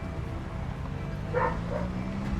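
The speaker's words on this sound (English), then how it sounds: "Dogs are in a mood today." Dogs in the video game Project Zomboid bark a couple of times, faint and distant, over a low steady background hum.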